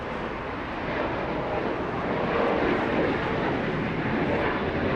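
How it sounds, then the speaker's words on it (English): A United Airlines Boeing 737 departs LAX, its jet engines producing a broad, steady roar that builds gently and stays fairly distant and continuous, with no voices. "United Airlines, a 737 departing, heading to Denver, Colorado"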